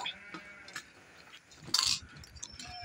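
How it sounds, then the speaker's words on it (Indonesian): Goats at a livestock market give a few scattered bleats over quiet background chatter, with one louder, sharper cry standing out near the middle. "Nah jadi di sini ya ada kambing"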